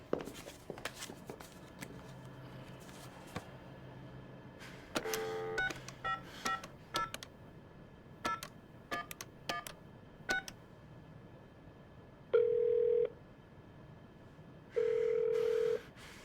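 Telephone keypad tones being dialed one by one in a drama series scene, followed by two long electronic ringback tones, with soft handling noises and footsteps between, fairly quiet and without speech.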